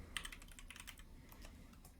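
Keys clatter on a computer keyboard in quick, irregular bursts of clicks, close but faint, with no talking.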